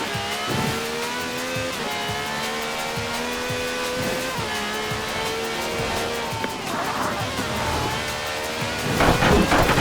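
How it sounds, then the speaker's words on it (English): A V12 car with over 750 horsepower drives in the Forza Horizon 4 racing game, its engine a steady, loud droning roar that shifts pitch through gear changes, with tire and road noise building near the end. "No clattery diesel engine here. This has a V12 with over 750 horsepower"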